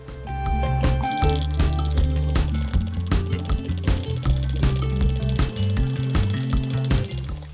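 Rubio wood finish and accelerator are stirred together by hand in a small container for a kitchen door renovation, giving close, rhythmic wet sloshing and scraping strokes that repeat steadily throughout.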